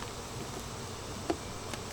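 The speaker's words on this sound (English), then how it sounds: "Okay, here are the bees." Honeybees hum in an opened beehive during a move, a faint continuous buzz with one or two brief louder passes close by and no talk.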